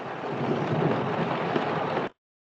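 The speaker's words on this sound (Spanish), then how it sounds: "Pues que está lloviendo por ahí." Steady rainfall, a dense even hiss of drops that holds at constant loudness for about two seconds and then cuts off abruptly into silence.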